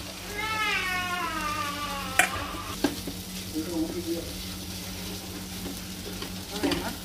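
Chopped capsicum sizzling in hot oil in a frying pan while cooking dal tadka, a steady close frying hiss throughout, with a few sharp clinks of a spoon against the pan and a faint background voice early on.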